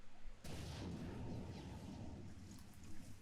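A heavy boom from shooting a jammer in the video game Halo 4 sets off a dense, rumbling roar that fills the rest of the short moment, loud and close.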